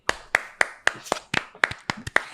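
A single person claps their hands sharply and close up, about ten distinct claps in a fairly steady rhythm with a few quick doubled beats.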